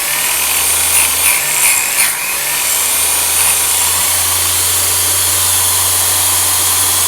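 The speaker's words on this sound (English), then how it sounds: "And then we sharpen the next tooth." An electric chainsaw sharpener of the Harbor Freight type grinds one tooth of a saw chain, a steady loud whirring grind running throughout with a low motor hum beneath, briefly shifting near the start as the wheel meets the tooth.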